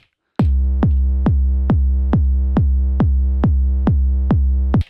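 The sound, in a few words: 4x4 kick drum pattern on Elektron Octatrack sampler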